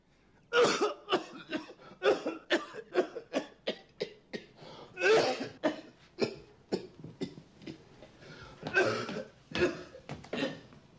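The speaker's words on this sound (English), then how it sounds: "I'd quit smoking if I were you. Your cough's getting worse." A man coughs again and again in a dry, hacking fit of a dozen or more sharp bursts, close and loud, with gasping breaths between them.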